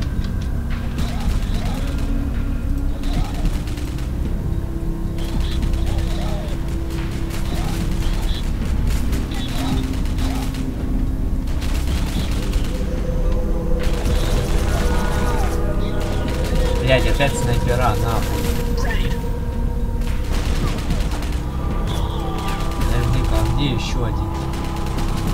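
Gunfire from a cannon in the video game Rogue Trooper, during a train level with spiders: repeated booming shots and mechanical clatter over a steady rumble, with voices over the noise.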